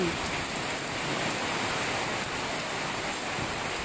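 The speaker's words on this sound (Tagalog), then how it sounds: "Grabe ang lakas ng ulan, hangin dahil sa bagyong Ulysses." Heavy typhoon rain pours down in a dense, constant roar with strong wind mixed in, loud and unbroken throughout, no voices.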